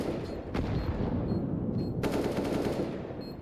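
Automatic gunfire in a video game, dense rapid bursts sprayed loud and close with brief breaks between volleys, heavy booming reports layered throughout.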